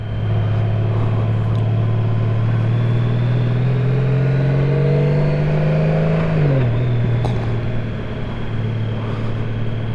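Honda Goldwing DCT motorcycle engine at low speed in a parking lot, a steady loud hum that slowly climbs in pitch, then drops sharply as the gear changes down, with wind noise throughout.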